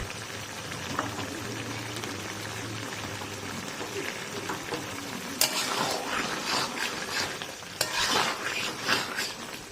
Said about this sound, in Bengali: আর এই দেখুন ভালো করে দিচ্ছি মিক্স